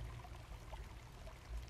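Water flushing out of test cock number 4 on an RP backflow preventer during relief valve troubleshooting; a short, steady pouring rush of water, fairly close and alone.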